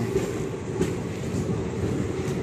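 A train pulling out of Aurangabad railway station, heard from on board as a steady low rumble of wheels and carriages with faint rhythmic knocks, continuous and fairly loud.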